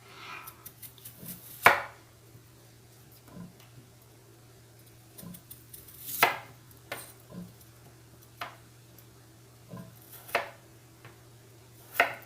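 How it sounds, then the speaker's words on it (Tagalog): A knife chopping through potatoes on a cutting board while cutting them into strips for french fries: a string of sharp, close chops at an uneven pace, a few louder strikes standing out, over a steady low hum. "So, ganito lang guys ang paghiwa ng patatas."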